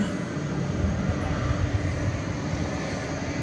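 A Boeing 787-9 Dreamliner, six years old and bound for Sydney, hums at night at Dallas-Fort Worth airport with a steady broadband engine roar at moderate distance, unbroken throughout.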